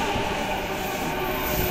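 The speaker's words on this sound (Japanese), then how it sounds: "The rapid train bound for Ulm will soon arrive on track number 1." An E233 series rapid train pulls into Ochanomizu station on track 1 with a loud, steady rumble and a rolling mechanical drone that fills the platform throughout.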